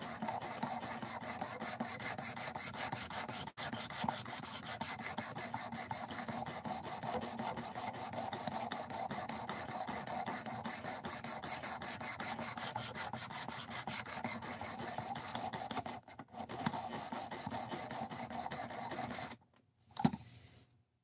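A knife being sharpened by hand against a stone or file, a steady continuous raspy scraping that runs close and loud for about nineteen seconds, then briefly breaks off and stops near the end.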